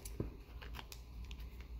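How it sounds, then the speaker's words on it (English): Scissors are picked up and snip through paper for an Earth Day craft, a few quiet crisp cuts and light handling clicks in a calm indoor room. "Then you're gonna grab scissors."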